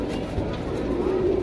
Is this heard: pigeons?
yes